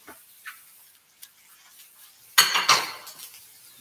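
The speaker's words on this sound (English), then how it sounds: "Give that a good stir." Garlic and onions are stirred in a pot for fish stew, with a few faint scrapes and then a close burst of metallic clinks and scraping as the utensil knocks against the pot.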